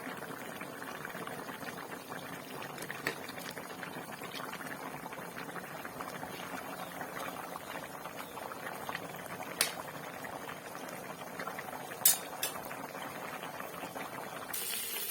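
A pot of fish curry with greens bubbles steadily at a low simmer, a continuous soft gurgling with a few faint clicks and taps throughout.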